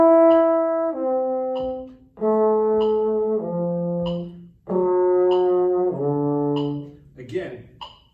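An instrumental jazz exercise in which an ensemble plays the thirds and then the roots of passing chords, as sustained harmonic tones changing every second or so across about four chord shifts, loud and close with no talking.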